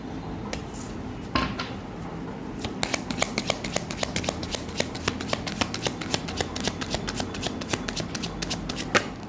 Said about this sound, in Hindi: यहाँ से मैं 3 कार्ड लूँगी, एक कार्ड आ चुका है।